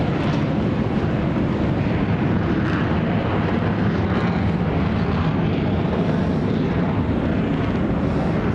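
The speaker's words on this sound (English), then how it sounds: "just before the reheat kicks in and the aircraft pulls up and away" An F-16 Block 60 jet engages its afterburner and climbs away, giving a loud, continuous broadband roar that holds steady throughout with no pauses.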